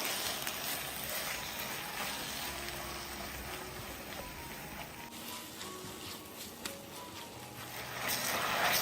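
Jackfruit pulp being stirred in a pan for jackfruit boli makes a soft, continuous sizzle with light scraping, fairly faint and steady, with no talk.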